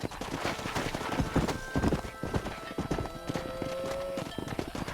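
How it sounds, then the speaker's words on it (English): Rhythmic clip-clop of horse hooves with a whinny in Red Dead Redemption, mixed with game-style ambience and a faint tonal hum. "Control that horse, will ya?"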